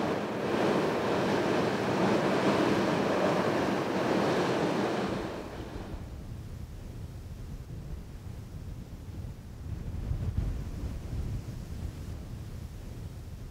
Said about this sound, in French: Après 3 jours et 3 nuits, le vent faiblit.